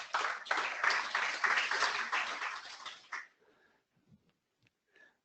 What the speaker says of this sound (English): So round of applause to that team